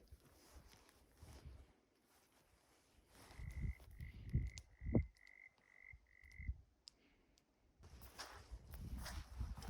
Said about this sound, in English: you hear the frogs?